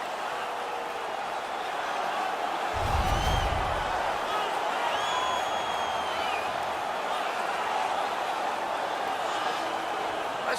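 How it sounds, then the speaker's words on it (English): Hockey arena crowd cheering after a fight at a Maple Leafs versus Islanders game, a broad, steady roar that fills the whole stretch beneath a broadcaster's continuous commentary. "The crowd is so pumped right now."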